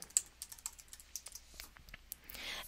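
A password is typed on a computer keyboard, a quick irregular run of soft key clicks close up and faint, ending in a slightly louder rustle.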